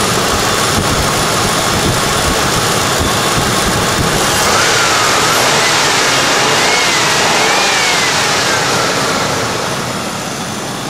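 A Ford Crown Victoria's engine idles loud and close, a steady, smooth, continuous rumble with no other sounds, easing slightly in level near the end.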